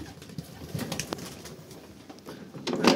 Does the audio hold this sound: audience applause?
no